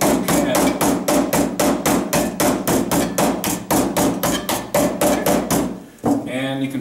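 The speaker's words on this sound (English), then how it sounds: "take a hammer and you want to hammer down that edge" Steady, rapid hammer strikes flatten the sharp cut rim of an empty metal soup can, about two blows per second, loud and close, ending in a brief metallic ringing.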